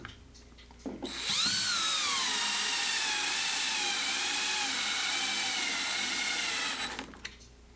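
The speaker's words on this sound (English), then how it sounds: "my plan is to put them in almost all the way with the electric drill" An electric drill drives screws into a large segmented wooden bowl, its motor whining up to a loud, steady pitch for several seconds before stopping, with a brief spin-up at the start and no talking.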